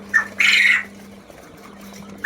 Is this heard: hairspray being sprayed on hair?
no